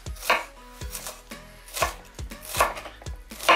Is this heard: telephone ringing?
no